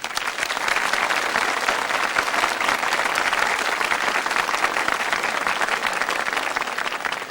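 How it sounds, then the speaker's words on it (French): A French television game show studio audience from 1980 claps steadily in a dense, even wash of applause lasting about seven seconds as a vote, with no pauses or voices. "si vous votez pour lui, durant 7 secondes, applaudissez"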